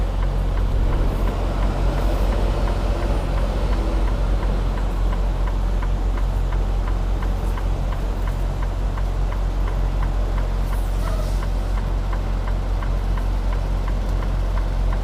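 A semi truck tractor's diesel engine runs steadily while the driver maneuvers to back in for a delivery, a continuous low rumble with a faint regular ticking, close and unbroken, with no voices.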